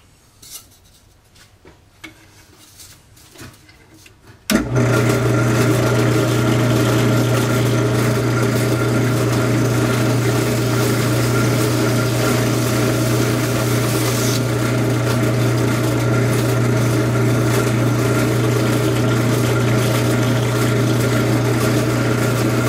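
A drill press starts up after a few quiet seconds of faint handling, then runs steadily with a loud, constant hum and grinding rasp as it cuts 3/4 inch holes in a wheel.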